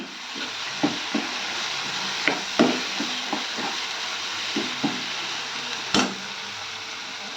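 Fish curry sizzling in a pan while being stirred, a constant hissing fry under a series of distinct spoon scrapes and knocks against the pan, one louder clank near the end.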